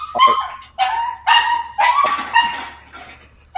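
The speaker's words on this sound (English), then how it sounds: "Some dog is really excited." An excited dog barks close by, five loud yappy barks in quick succession with whiny edges, sounding alone with no talking.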